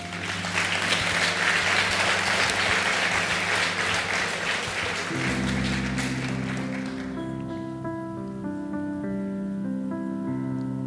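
A church congregation applauds at a conference service: dense clapping for several seconds that thins out while sustained music tones take over.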